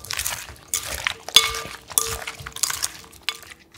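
Sliced onions are tossed in a bowl with yuzu, vinegar, soy sauce and water. Wet squelching and light clinks against the bowl sound close and irregular, with no talk.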